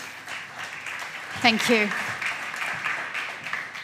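Audience applause at a startup conference stage fills the room with a steady wash of clapping while a speaker briefly talks over it.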